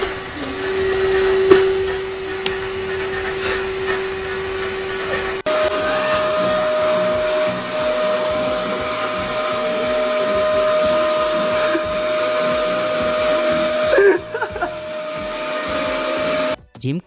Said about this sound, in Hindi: इन लोगों को वैक्यूम क्लीनर से सफाई करना इतना मजा देता है कि इसका पाइप उतर गया